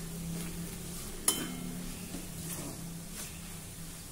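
A spoon stirs pigeon peas with turmeric, garam masala and red chili in a pan, giving soft scraping and a single sharp clink against the metal over a low steady kitchen hum.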